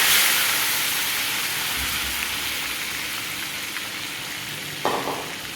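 Cut boiled eggs fry in a pan with a steady, close hiss of sizzling oil throughout, with a brief clatter near the end.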